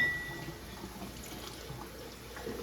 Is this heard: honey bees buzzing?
no